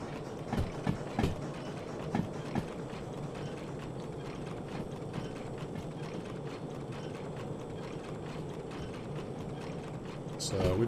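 A steam locomotive in the Derail Valley simulator hauls a string of coupled cars, with a steady mechanical rumble, rhythmic clanking and rattling, and a few sharper knocks early on, under occasional voice.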